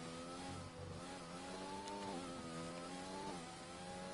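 On-board engine of a Williams race car in a sim racing league event, Great Britain round, finishing a lap: a steady, fairly faint high engine drone with slight pitch dips as the car lifts and shifts, carrying on without pause.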